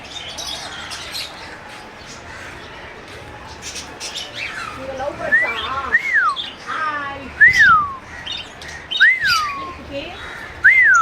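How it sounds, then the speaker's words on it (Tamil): A small bird chirps indoors in a kitchen, giving several sharp rising-falling calls close by, growing more frequent toward the end while people talk around it. "குட்டியாக ஒரு பறவை வந்துச்சு."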